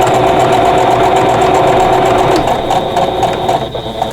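A sewing machine runs loud and close while stitching a quilt block seam, a steady rapid mechanical whir that slows slightly toward the end.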